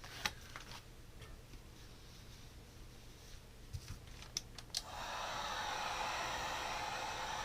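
A hair dryer or heat gun starts blowing partway through, a steady broadband rush of hot air applied to a vinyl wrap sticker on a Ritewing Mini Drak wing, preceded by faint scattered ticks and handling clicks.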